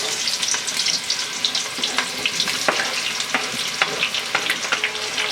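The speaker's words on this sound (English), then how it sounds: "I'm going to use the heated oil, so I will add some onions to it." Onions sizzling and frying in heated oil for jollof rice, a steady close crackle with frequent sharp pops and stirring scrapes and no voices.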